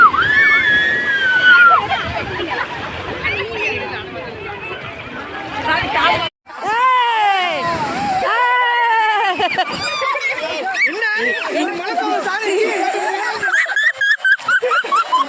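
A family bathes and plays in the sea at a beach, with water sloshing and splashing close by under excited shouting voices and children calling out.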